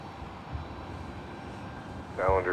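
A Delta A330 airliner on approach at San Jose Airport, a distant steady engine rumble with a low roar, joined near the end by a brief voice.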